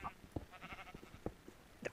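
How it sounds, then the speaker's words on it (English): Sheep in a survival island video game bleat a few times in short separate calls, moderately loud over a faint background. "Oh crap, I hit the sheep again."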